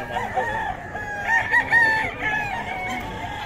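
Several roosters crow over a busy, noisy farmyard background, their calls overlapping at moderate distance with some clucking around them.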